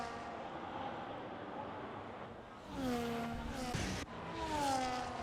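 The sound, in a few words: Formula 1 race cars driving in F1 25 video game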